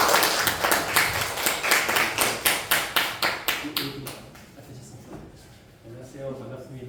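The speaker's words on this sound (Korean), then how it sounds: "환영의 박수로 맞이하겠습니다." A church youth worship congregation gives welcoming applause for a guest speaker, an airline captain. Rhythmic, fairly loud clapping runs for about four seconds, then fades into low room noise and murmuring voices.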